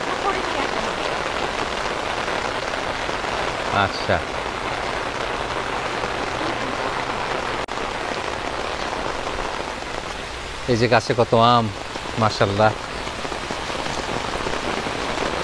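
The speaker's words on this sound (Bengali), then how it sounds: "ফাইনালি মুষলধারে বৃষ্টি নেমেছে।" Heavy downpour in Florida, a loud dense steady hiss of rain on surfaces that fills the whole stretch, with a person briefly talking over it near the end.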